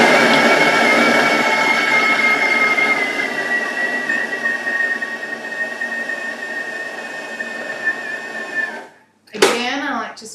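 A food processor whirs loudly and steadily as it blends Halloween treat ingredients, then cuts out briefly before a short clattering burst at the end.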